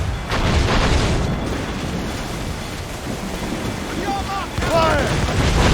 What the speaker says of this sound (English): Captain, look! Mortars!